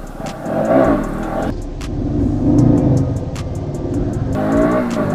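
KTM Duke 200 single-cylinder motorcycle, a 2020 BS6 model, revving hard as it lifts into a wheelie, engine note climbing and rumbling with a brief throttle dip midway, close and loud over wind noise.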